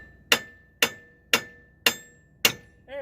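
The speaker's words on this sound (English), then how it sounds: "Now I'm going to bonk this knuckle, and hopefully that will let loose" Five sharp metallic hammer blows on an Astro van steering knuckle, each a loud ringing strike spaced about half a second apart, close and alone with no talk.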